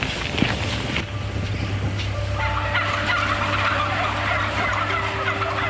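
Turkeys crowded in a barn gobble continuously, with overlapping calls forming a dense, constant din close by, alongside steady low ventilation hum.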